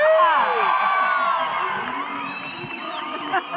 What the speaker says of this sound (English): we should ask the audience to cheer really loudly